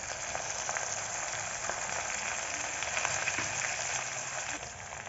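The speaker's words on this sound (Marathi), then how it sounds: "टाकूयात हिरवी मिरची पेस्ट, लसूणची पेस्ट, घेऊयात छान परतून" Green chili and garlic paste frying in a pan with cumin for kadhi, a steady, soft crackling sizzle that continues evenly, close by and quiet, with no voices.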